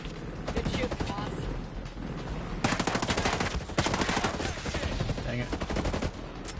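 Rapid automatic gunfire from the tactical shooter Ghost Recon Breakpoint rattles almost continuously in dense bursts, loud and close, with brief pauses and some voice chatter mixed underneath.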